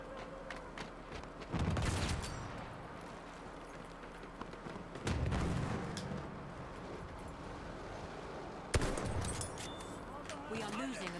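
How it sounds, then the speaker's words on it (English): Gunfire and sniper shots in the Battlefield 1 beta: a few heavy shot bursts near 2, 5 and 9 seconds, with crackling battlefield noise and voices between them. "Shots. Being sniped!"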